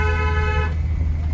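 A car sounds one long, steady horn blast that cuts off partway through, while the engine idles underneath on a narrow lane.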